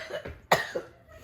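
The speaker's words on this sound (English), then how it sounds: "Stupid cough." One close, sharp cough from a person with a lingering illness bursts out in the middle, framed by softer breathy throat sounds before and after, with no talk.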